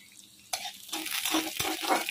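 Spices and mung dal frying in a hot pan, starting with a sudden sizzle and rising into a steady crackling hiss with light stirring, close and moderately loud.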